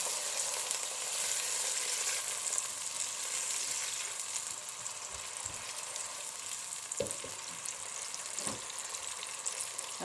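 Peas and green beans cook in a pan for coconut milk jollof rice, a quiet steady sizzle with a few light clicks and taps from a utensil, no talking.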